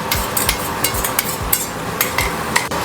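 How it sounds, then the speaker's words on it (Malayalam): Red chili paste with ginger and garlic being sautéed in a pan for Ambur biryani: a spoon or spatula scrapes and knocks against the metal in an irregular rhythm over a soft continuous sizzle, close and fairly loud. "നന്നായിട്ട് വഴറ്റുക."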